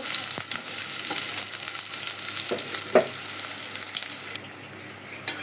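Dried fish with chopped garlic, turmeric and chili frying in a pan, a loud steady sizzle with occasional stirring clinks and scrapes, the hiss easing slightly near the end.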